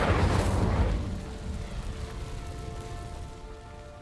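In Hogwarts Legacy an Incendio fire spell ignites dry vines. A loud whooshing, crackling flare bursts up and then fades into a softer, sustained burning hiss.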